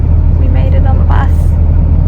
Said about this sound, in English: About a 20-minute bus ride from here.